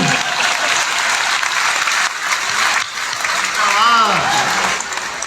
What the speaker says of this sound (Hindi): ताली बजाओगे कि हाथ यहीं रखूं?